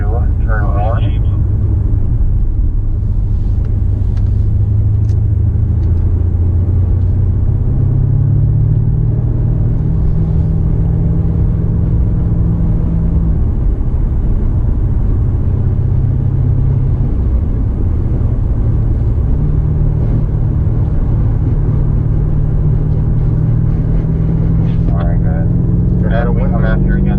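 BMW M5 Competition lapping the Indianapolis F1 road course, its engine droning loudly and steadily with rising and falling pitch through gear changes, close and in-car, with someone talking over it.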